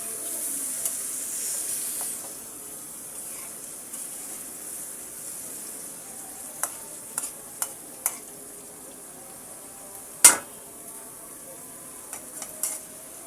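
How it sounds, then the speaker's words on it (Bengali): Small fish fry in a pan with a soft continuous sizzle, while a utensil stirs them and knocks against the pan in several sharp clicks and one louder clatter. "এবার আমি নেড়ে দেব।"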